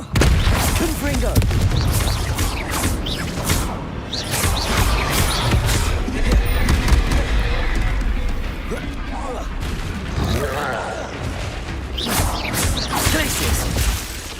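Loud fire blast spells cast over and over in the Hogwarts Legacy video game, heavy booms and crashing bursts recurring within busy combat sound and music.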